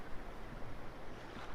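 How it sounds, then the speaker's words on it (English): Feet slog through shallow creek water in Aravaipa Canyon, Arizona, heard as a continuous rushing, splashing wash mixed with wind noise and no speech. "slogging through the creek"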